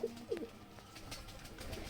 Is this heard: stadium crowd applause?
no